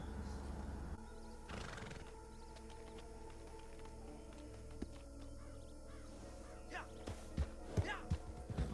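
A horse whinnies in the Red Dead Online video game, with hoofbeats clip-clopping and crows cawing against steady outdoor game ambience, plus a few sharper sounds near the end.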